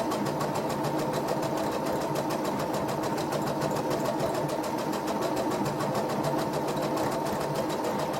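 A Babylock Sophia 2 sewing machine stitches an embroidered leaf design, running as a steady, rapid mechanical whir with fine rhythmic ticking throughout, close and fairly loud, with no talk.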